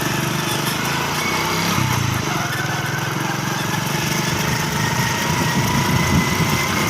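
A motorcycle engine idles steadily and close by for the whole stretch, a continuous low rumble with some vibration and no talk over it.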